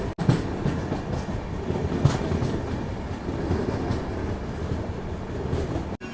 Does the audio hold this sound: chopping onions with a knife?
no